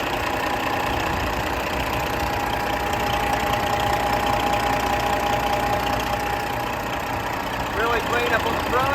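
A 2015 Kenworth W900L glider kit truck with a factory reman Detroit engine idles in a steady, loud, rumbling drone with a faint whine, while someone talks over it.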